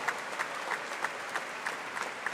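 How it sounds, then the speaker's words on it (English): Applause rises from the audience at a 2019 Hastings graduation ceremony, steady rippling hand claps from a large crowd heard at a moderate distance, with no voices over it. "And a round of applause for all of our students"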